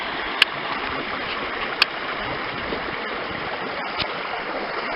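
A spring run from Ferry Springs flows steadily into the Withlacoochee River, a constant close rushing wash of water with no talk, broken by a couple of faint sharp clicks.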